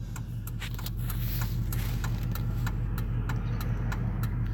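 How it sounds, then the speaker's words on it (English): A car's exhaust drones steadily at close range from inside the moving car at night, a deep continuous rumble with a regular ticking running over it, no talk. "That's just the sound of my exhaust, John."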